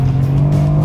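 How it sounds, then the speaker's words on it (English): Engine of a sports sedan, one of a BMW M3, Mercedes C63 AMG or Cadillac ATS-V, drones loud and steady at close range, with a strong low tone that holds for just under a second and no voices. "And the nice bark that you get every time you downshift is pretty nice,"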